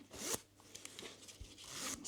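Metal zipper slider pulled along a shortened zipper with teeth bent inward, for a handbag or wallet: a few quick scratchy zips in short bursts, close and fairly quiet, with no talking.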